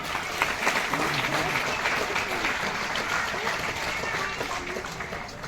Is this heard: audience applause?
yes